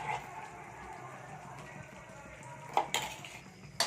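Coconut paste spooned and stirred into simmering tiffin gravy in a pot, a soft steady bubbling broken by a few sharp spoon clinks against the metal rim near the end.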